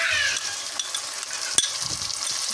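Garlic-ginger paste and tomato paste fry in a pan for dhaba-style daal mash. A steady, close sizzle crackles throughout, broken by the occasional clink of a stirring spoon, with no talking.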